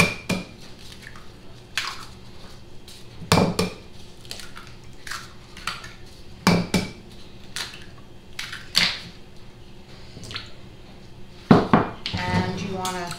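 Eggs being cracked into a bowl while butter melts on a stove, a run of sharp clicks, taps and clatters against the bowl spaced every couple of seconds, with a busier burst of knocks near the end.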